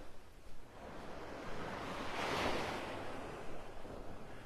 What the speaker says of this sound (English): I could just stand there like staring at the little waves all morning